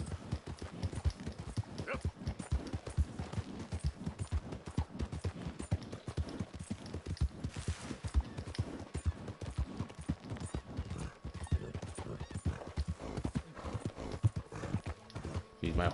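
Horse hooves clip-clop at a steady gallop through Red Dead Redemption 2, loud and close, with a neigh breaking in partway through over dense continuous hoofbeats.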